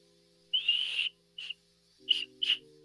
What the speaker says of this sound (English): Little whistles, man, 3D printed whistles.